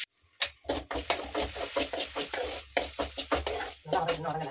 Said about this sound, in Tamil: எண்ணெயை மட்டும் ஊற்றி இந்த வெண்டைக்காயை போட்டு வளர்க்குறேன்.